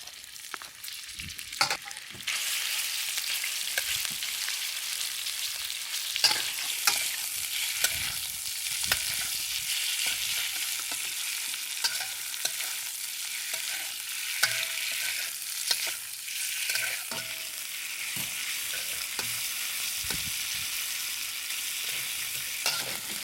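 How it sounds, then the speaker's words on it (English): Beef for bulgogi frying in hot oil in a pan gives a long, steady, bright sizzle, close and even, punctuated by frequent small crackles and spatters, with no talking. "Okay, I'm going to put some oil in it. Then I put all the beef in it."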